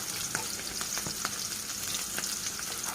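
Green chilies and chopped onion sizzle in hot oil with a dense, crackling hiss and scattered pops throughout, steady and close, with no voices.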